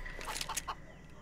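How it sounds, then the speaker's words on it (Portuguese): A chicken clucks in the CS:GO map Aztec, giving a few quick, close clucks in a short irregular burst over a faint steady game background. "é a primeira vez na vida que eu vejo uma galinha spawnando de forma natural"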